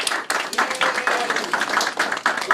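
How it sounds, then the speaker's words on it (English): An audience applauding at a live event, dense quick claps rising and falling in waves, close and moderately loud with no speech over it. "Now give them a round of applause."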